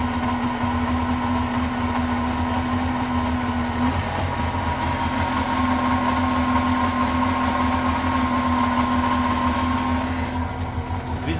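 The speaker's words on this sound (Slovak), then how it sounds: "Vyzerá, že vrčia 3 valce." An old three-cylinder car engine idles in a steady, loud, continuous rumble with an even tone throughout, and no one speaks.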